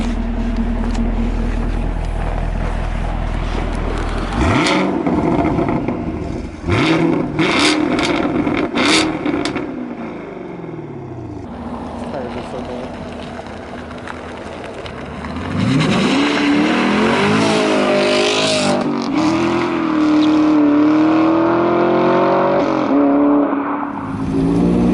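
A Lancia Delta Integrale HF rally car engine idles, then revs hard several times in rising, rasping bursts, loud and close, ending in a sustained roar.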